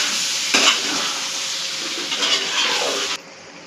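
Spicy chicken fry is tossed and mixed in a hot pan, with a steady sizzle under scraping spatula strokes that build in a few louder bursts before cutting off abruptly.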